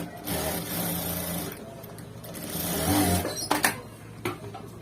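A sewing machine stitches a gents' shirt collar in steady, close mechanical runs that slow and stop near the end, with a few sharp clicks after the stitching halts.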